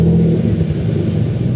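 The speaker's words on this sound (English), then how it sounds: "let's feel this twin turbo straight six" Toyota Supra MK4 with a 2JZ twin-turbo straight-six engine, heard as a loud, close, steady low engine rumble with a slight rise in revs.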